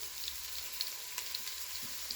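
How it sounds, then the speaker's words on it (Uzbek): Onions frying in a pot, a faint, steady sizzle with soft crackles running alone and unbroken throughout. "piyozni solamiz qozonga. Ozgina chala qovurib yuboramiz"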